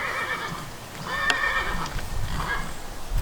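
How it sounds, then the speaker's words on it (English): A horse neighs, a close, fairly faint whinny with a bright quavering call near the middle and a shorter one toward the end, over quiet background noise. "there's my horse."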